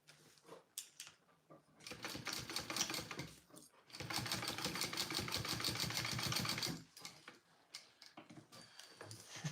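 A Juki sewing machine stitching a seam, with rapid rhythmic mechanical clatter in two sustained runs, separated and followed by short stops and starts.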